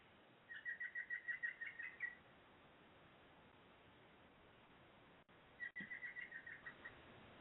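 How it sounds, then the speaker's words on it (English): Two short bursts of rapid, repeated bird chirps, one early and one near the end, with a faint hiss and a couple of clicks between. "We have the bird accompaniment in the meantime."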